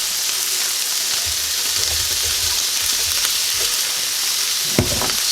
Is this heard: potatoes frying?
yes